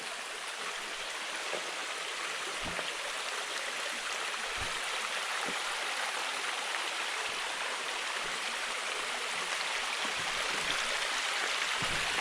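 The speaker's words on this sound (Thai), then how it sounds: "มีน้ำตกเล็กๆให้เราได้จมกันด้วยครับผม" A small waterfall in a deep forest pours in a constant broadband hiss of flowing water, with a few soft splashing ticks scattered through the steady roar.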